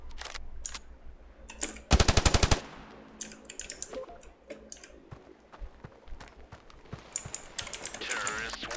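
Gunfire in the mobile shooter Standoff 2 sounds as a rapid burst of automatic shots, with scattered single shots and clicks around it, heard close and mixed with other game sounds.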